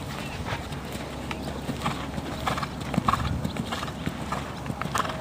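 Hooves clip-clop in a steady rhythmic beat as a horse moves during a riding lesson, moderately close over a soft background with no voices.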